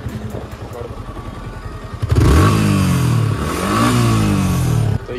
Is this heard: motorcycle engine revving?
yes